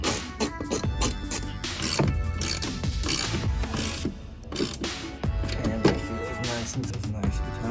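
Ratcheting clicks as a crimp tool clamps Jeep JL fender retention hardware in place, a dense, close series of rapid mechanical pawl clicks and clacks continuing throughout.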